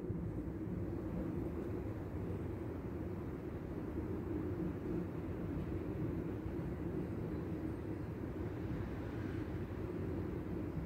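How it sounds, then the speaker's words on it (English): An airplane passes overhead during a rainy evening before a storm, heard as a steady, low, broad rumble that holds at a constant loudness through the whole stretch, with no voices. "That's not thunder, that's an airplane, obviously."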